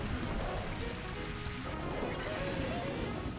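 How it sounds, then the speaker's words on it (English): Rain Dance move from the Pokémon Colosseum video game produces a steady wash of rain pattering on a surface, continuous and fairly loud throughout with no break. "Dual rain dance, nice."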